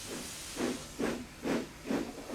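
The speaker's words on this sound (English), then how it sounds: "Thomas is a steam engine." A steam locomotive puffs in four evenly spaced, hissing chuffs of steam, clear and fairly close, with nothing else heard.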